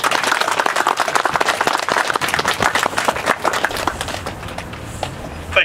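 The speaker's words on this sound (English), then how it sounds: "everybody needs to give themselves a round of applause for what is going on here today" Outdoor crowd applauding at a park dedication ceremony, a brisk, dense clatter of many hands that carries for several seconds, then thins out and fades toward the end.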